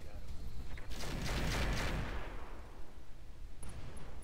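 Heavy mech weapons unload in Roguetech, a dense volley of booming blasts that builds around the first second, then rolls off into rumbling decay, with faint crackling pops near the end.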